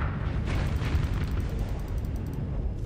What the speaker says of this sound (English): missiles are firing